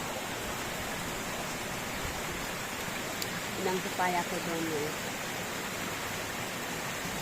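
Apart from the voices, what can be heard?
typhoon rain and strong wind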